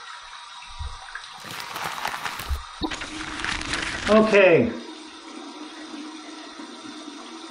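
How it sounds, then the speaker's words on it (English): Warm water gushes from a tap into a sink for a few seconds as a freshly shaved head is rinsed, close and moderately loud, following rustling and with brief talk nearby. "I'm going to get some warm water out of the tap and just rinse my head off"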